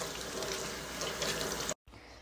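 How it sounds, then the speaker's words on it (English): Tap water runs steadily as fresh cilantro is rinsed under it in a kitchen sink, a close, hissing splash that cuts off abruptly near the end with a brief quieter tail. "Now you're going to want to also rinse your cilantro."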